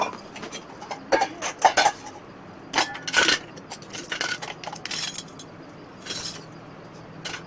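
Dishes and cutlery clatter and clink in bursts as they are handled and stacked, close by with no talking.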